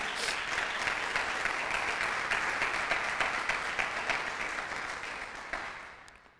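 A church congregation clapping steadily, a dense wash of applause that holds for several seconds, then fades and dies away at the end.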